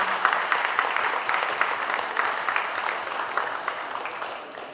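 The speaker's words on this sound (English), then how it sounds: "please give an applause" Applause at a formal cultural farewell dinner in Jakarta, a steady sheet of clapping from a large seated audience, moderately loud and holding for the whole stretch without talk.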